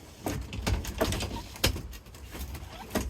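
A camper door on a 2019 Forest River Flagstaff slides outward along two cables, giving a series of close, light rattling clicks and knocks spaced irregularly over a few seconds.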